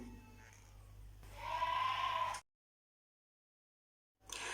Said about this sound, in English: that's just my next door neighbor's goats